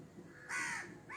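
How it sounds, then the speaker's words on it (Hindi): A crow caws twice near mango, amla and neem trees, two short harsh calls close by, the first longer than the second, over quiet outdoor background. "आपके बगल में कौवा बोल रहा है"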